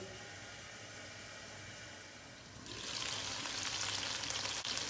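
Pasta pieces searing in a covered pan, a steady low sizzle that swells midway into a louder, brighter hiss of frying and steam, continuous and close with no talking.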